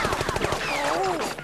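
Rapid machine-gun bursts from the Penny Arcade video game rattle in quick succession at close range, overlapped by a voice and swooping sound effects.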